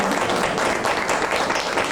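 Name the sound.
congregation applause for Jesus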